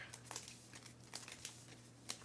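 Playing cards for the Earthborne Rangers board game being shuffled, a run of soft crisp riffling bursts, close and fairly quiet, with no talking.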